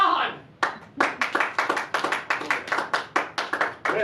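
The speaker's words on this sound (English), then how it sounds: "Chris, you didn't get too many applause" Audience applause for a contestant at a New Year's Eve contest event, a few seconds of close clapping from a small crowd, steady and loud, starting just as a voice finishes speaking.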